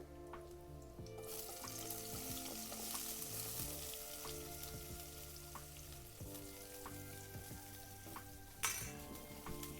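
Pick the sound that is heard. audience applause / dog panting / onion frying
onion frying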